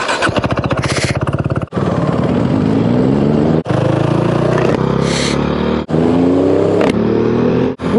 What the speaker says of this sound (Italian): Accensione in folle.